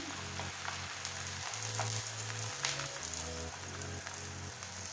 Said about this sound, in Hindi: इसको भी 1 मिनट के लिए पकाना है ताकि अच्छा सा फ्राई हो जाए और पराठे की फॉर्म में आ जाए